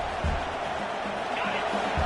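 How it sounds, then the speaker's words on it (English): Big football stadium crowd roaring near the goal line during a Michigan versus Rutgers game, a dense sustained wash of cheering that runs steadily under a commentator's voice. "And this big crowd doing everything possible to inspire this defense down here near the goal line."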